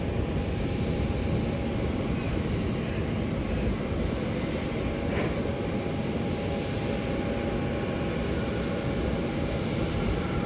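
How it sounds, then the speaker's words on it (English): Airliner arriving from Ho Chi Minh City on its landing at Melbourne Airport, a steady, loud broadband jet engine roar holding constant with no speech over it. "But this plane is landing from Ho Chi Minh City"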